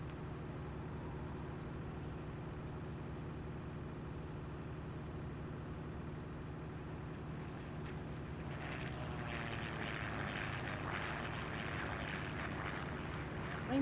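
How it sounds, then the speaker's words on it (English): An aeroplane drones overhead in Farming Simulator 19, a steady distant engine hum that swells slightly toward the end over constant game ambience. "I never see that aeroplane."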